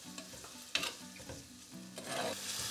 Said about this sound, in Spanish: En esta cazuela que tiene un poco de aceite, vamos a agregar el ajo y la cebolla. Y los vamos a dejar acitronar muy bien